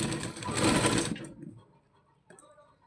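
A sewing machine stitches stretched elastic to gather a baby frock, a close rapid whirring run for about a second that then tapers off into quiet, followed by a brief faint click.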